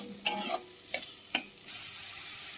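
Masala stirred and fried in a pan with little oil: a few distinct scraping stir strokes with a soft sizzle beneath, then a steadier frying hiss toward the end, fairly quiet and with no talking.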